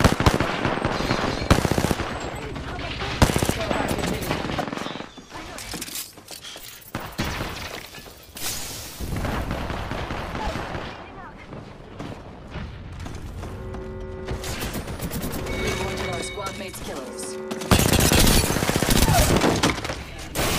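Rapid bursts of automatic gunfire crackle in an Apex Legends ranked arena match, mixed with sharp shattering and impact noises, loud and dense throughout with brief lulls between exchanges.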